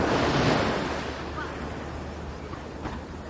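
Ocean surf rolls onto the beach at Baler, Aurora, a broad steady wash of breaking waves mixed with gusty wind buffeting the microphone, loudest at the start and then settling, with faint voices in the background.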